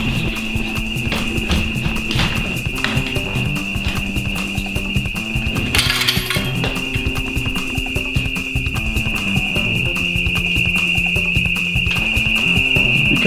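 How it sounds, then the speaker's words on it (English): Hotel fire alarm ringing loudly and continuously with a steady high-pitched tone, layered over rapid clattering beats throughout. "It's the second time I have a fire alarm in here."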